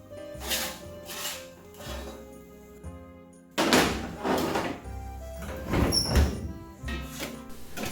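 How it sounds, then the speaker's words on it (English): An oven door is worked to pull out a grandma-style pizza, with clunks and metallic thuds, a brief pause, then a sharp bang and further rattling knocks, close and fairly loud. "I'm going to pull that out of the oven"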